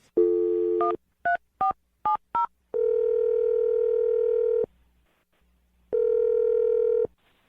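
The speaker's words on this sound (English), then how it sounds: "I'm going to dial the phone number right now" A dial tone sounds, then several short touch-tone beeps in quick succession, followed by long steady ringback tones with a pause between them.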